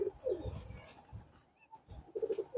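A pigeon coos softly in a few short bursts at close range, with quiet pauses between calls.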